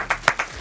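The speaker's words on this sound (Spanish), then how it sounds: "Seguimos haciendo un aplauso con nuestra invitada." A few scattered claps from a studio audience greet a guest on a live program, four or five quick, close claps in under a second.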